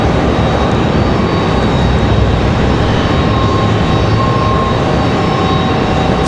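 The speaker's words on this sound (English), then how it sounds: "Got a CRJ just below us, so they're going to make a whole lot of noise here." Roaring engines of a CRJ regional jet at an airport, a loud, continuous broadband rumble and whine from close by with a faint steady tone above it, no voices present.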